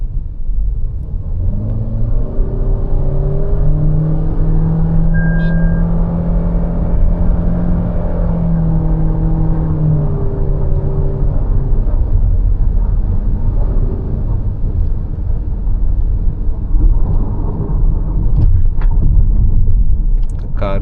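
Toyota Innova Hycross hybrid with its ECVT transmission revving hard in sport mode from inside the cabin, a sustained droning engine note rising and holding over steady road rumble for the whole stretch.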